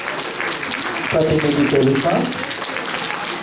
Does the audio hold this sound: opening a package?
no